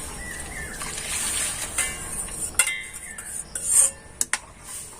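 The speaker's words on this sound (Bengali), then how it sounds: "দুধটাকে এবার জলে মিশিয়ে নেব" Milk powder being stirred into water in a pot for sweet curd, with a spoon scraping and clinking against metal and faint liquid swishing, close and fairly quiet, no talking.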